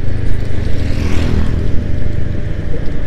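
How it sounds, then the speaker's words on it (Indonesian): Loud, constant wind buffeting and engine drone recorded while riding a motorcycle, a close, rough rumble with no pauses. "Cuma terpaan dari laju motor saya."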